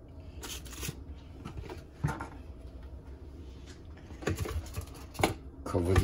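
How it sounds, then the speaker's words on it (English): Foil paper crinkles and rustles in several short bursts as it is handled to cover food for travel, the crackles growing louder toward the end over a quiet low background. "cover this up with a piece of foil paper."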